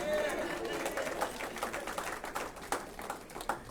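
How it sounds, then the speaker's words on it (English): Scattered audience clapping at a symposium rises under ongoing chatter and speech from the crowd, loose and uneven rather than a full ovation. "Y'all can clap for that"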